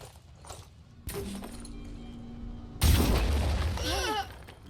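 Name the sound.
grenade explosions in the video game Phoenix Point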